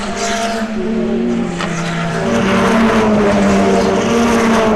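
Touring race cars, including VW Golf GTI 8s, roar past close together on a circuit, engines droning loudly with shifting pitch and layered exhausts from several cars at once.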